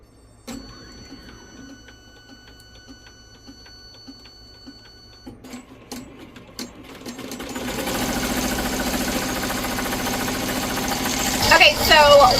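An embroidery machine starts stitching vinyl onto a hair bow, quiet ticking giving way to a steady, fairly loud mechanical whir and rapid needle chatter that continues to the end.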